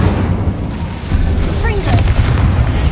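An Incendio fire spell cast in Hogwarts Legacy on PS5 Pro, bursting with a whooshing, booming flare amid game effects, while a voice is heard over it.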